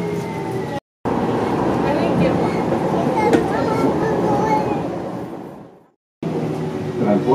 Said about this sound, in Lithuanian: čia kitas traukinys. Šitas traukinys yra tarpmiestinis